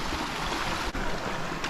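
Water flows steadily in a stream in Solstice Canyon in the Santa Monica Mountains of Malibu, California, a close, loud, constant rushing broadband sound with no voices.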